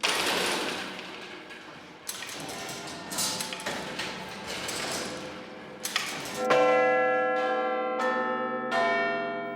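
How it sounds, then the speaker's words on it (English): The great bell of Big Ben in London's clock tower, a 13.5-ton bell 7'6" high and 9 feet across, rings out loud and near, with long sustained tonal strikes whose ringing decays slowly, after a stretch of busy mixed noise. "The nickname comes from this huge bell which chimes the hour."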